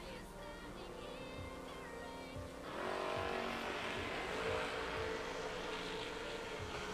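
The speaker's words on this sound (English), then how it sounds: "Got us a drag race" A Pinto and a Camaro in a drag race: engines idle with a low rumble, then roar loudly at launch and keep up a sustained full-throttle blare.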